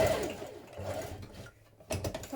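Sewing machine stitching the ends of a blouse neck binding together in short, close mechanical bursts with a brief pause between runs.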